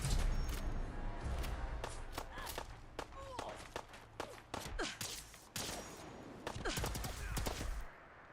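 Repeated gunfire in the post-apocalyptic video game Fallout 4, sharp cracks in irregular bursts with some thuds and footsteps, moderately loud throughout, under brief talk.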